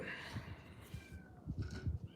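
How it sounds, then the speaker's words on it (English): A kitten outside a door gives faint, distant meows, soft and intermittent against a quiet room background. "And I got a kitten outside the door."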